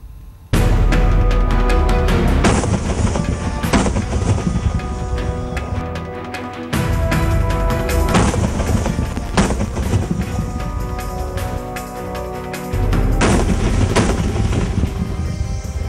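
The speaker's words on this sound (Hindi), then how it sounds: "आग उगलती पाकिस्तानी बंदूकें और उसके मोर्टार के फायर" Pakistani guns and mortars firing across the India-Pakistan border at BSF posts at night: dense, relentless gunfire and heavy booming blasts, loud and continuous with brief lulls between volleys.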